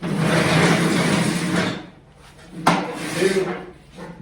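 A mower deck slides under a John Deere RX75 riding mower, producing a sustained scraping rumble followed by a sharp knock and further shorter scrapes, close by.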